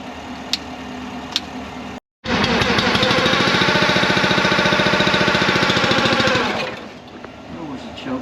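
A wheat sprayer's engine catches after a brief silence and runs on choke, a loud, close, rough chugging with a fast steady pulse for several seconds before it drops away.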